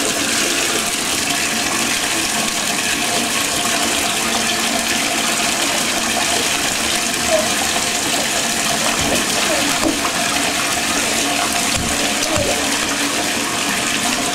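Bathwater sloshes and splashes steadily as a little boy plays in the tub, a continuous broadband wash of water close by with no clear pauses.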